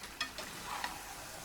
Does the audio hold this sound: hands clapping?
no